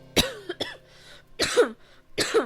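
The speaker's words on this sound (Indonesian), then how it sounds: "batuk guys" Several short, sharp coughs in a row, close and fairly loud, with brief pauses between them and no talking.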